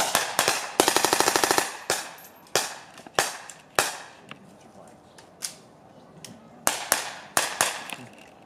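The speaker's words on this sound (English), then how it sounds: "I'm going to fire on full automatic. My comrades to my left and right are going to fire on semi-automatic." Rifles at a Vietnam War reenactment fire outdoors, a rapid full-automatic burst of close, loud cracks followed by spaced single semi-automatic shots, each echoing briefly, with a voice speaking among the shots.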